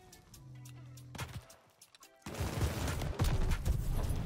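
Volkssturmgewehr rifle shots in Call of Duty Vanguard, heard as a few separate sharp reports with a slow rate of fire, then a loud, dense stretch of gunfire and battle noise. No one speaks.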